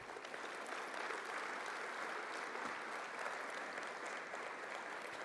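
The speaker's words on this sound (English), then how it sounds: "So please give them a round of applause." A seated audience at a military summit panel on Pacific security gives steady, even applause that holds at the same level throughout, with no voices over it.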